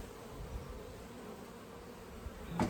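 Honey bees buzz steadily around sunlit beehives during a hive check, a soft, continuous drone with no talking, swelling slightly louder near the end as a bee passes close.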